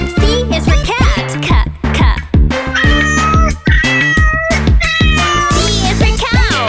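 A cat meows again and again, loud and close, each cry sliding up and down in a quick, repeated series.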